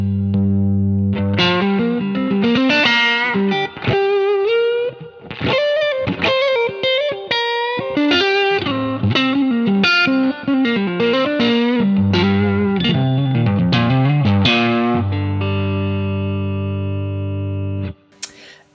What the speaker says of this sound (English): So the Zen Drive sounds a little bit like this